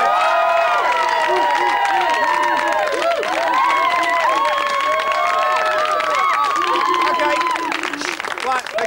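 Sustained applause and cheering from a studio audience at a 1994 British television chat show, a dense, loud wash of clapping and whoops that holds steady for the whole stretch, with bits of voice and music mixed in.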